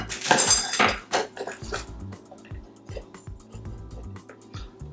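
A metal camping tea kettle is handled among motorcycle camping gear, giving a few close, bright clinks and knocks followed by softer rattles and taps.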